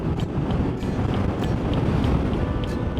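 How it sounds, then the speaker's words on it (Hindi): Strong wind buffets a microphone while cycling on a rough road toward a remote cold region of Central Asia, a steady loud roar of gusts with no pauses. "बहुत तेज हवा चल रही भाई"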